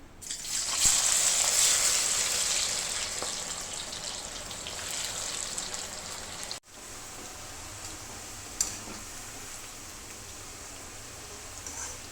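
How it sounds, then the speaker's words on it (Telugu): Jackfruit slices hiss and sizzle loudly as they drop into hot, pure cold-pressed coconut oil for deep frying, a bright crackling rush that swells early and then settles into a steady bubbling fizz. "డీప్ ఫ్రై చేయడానికి ప్యూర్ గానుగ నూనె కొబ్బరి నూనె వాడుతున్నాను. ఆయిల్ కాగింది, ఇప్పుడు మనం కొంచెం వేసుకుందాం."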